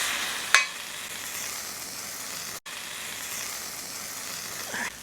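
A sloppy joe grilled cheese sandwich fries in a pan with a constant, moderate sizzle, marked by a brief sharp clatter as it is flipped and a momentary drop in sound midway.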